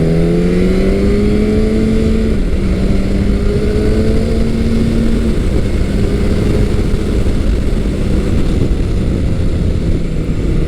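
A Yamaha FZ1 Gen 2 sport-standard motorcycle on its stock exhaust pulls hard, its engine note climbing steadily under constant wind rush, loud and continuous throughout with no talking.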